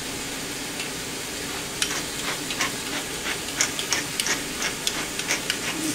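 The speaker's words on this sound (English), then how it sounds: "I just mix those around and get the mushrooms and the onions into a nice flavorful mixture" Mushrooms and onions fry and get stirred in a pan for cottage pie with grass-fed beef, giving a steady low sizzle broken by scattered clicks and taps of a utensil against the pan, close by, with no talking.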